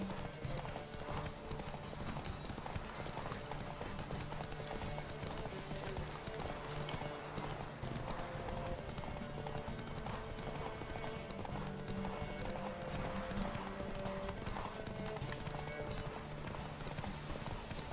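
Horse hooves gallop in a fast, steady clip-clop rhythm during a race in The Witcher 3, running continuously at moderate loudness with faint game ambience beneath.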